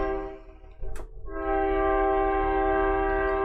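A train horn sounds loud and close in long sustained blasts, briefly interrupted by a sharp clatter, then holds steady over a rumbling rail background.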